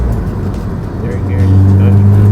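A BMW M3 E36 engine drones loudly from inside the car as it shifts into second gear, the low hum rising and strengthening after the shift under constant cabin noise.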